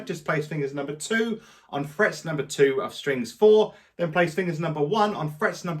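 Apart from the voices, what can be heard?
No everyday noise stands out behind the speech.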